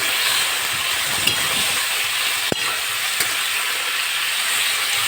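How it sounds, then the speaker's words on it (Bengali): Potatoes frying in a pan, a dense, steady sizzling hiss up close with a couple of faint knocks and one sharp click midway, no voices. "আর আলুটাও এবার আমি ভেজে নিচ্ছি"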